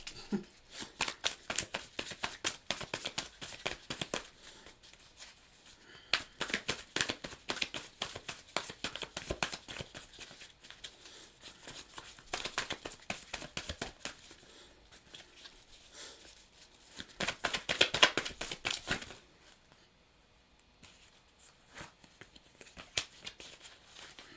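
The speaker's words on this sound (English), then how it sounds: "Let's shuffle it again because that was a terrible shuffle." Tarot cards are shuffled close up in long riffling, papery bursts that repeat with brief pauses, fairly quiet and without talk.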